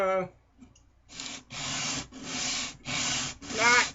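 Maple wood knife scales are sanded by hand in about five rhythmic rasping strokes. Each stroke is separated by a short pause, close and moderately loud.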